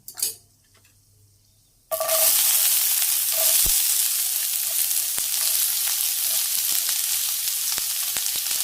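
Chopped onion with bay leaf, cloves and cinnamon stick dropped into hot oil, for a village-style egg curry: a sudden loud hiss that turns into a steady, dense sizzle with small crackles and pops.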